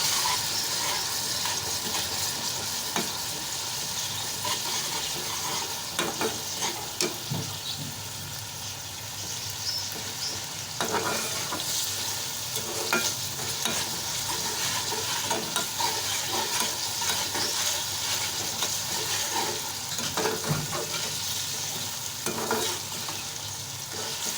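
A pan sizzles steadily while garlic-ginger paste fries with onions, with intermittent scraping and stirring clatters from a utensil, close and continuous with no talking.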